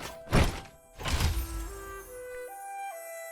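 Chest opening in the Roblox game Swordburst 3: two dull thunks close together, then a rising series of bright electronic chime tones stepping upward, alone with no talk.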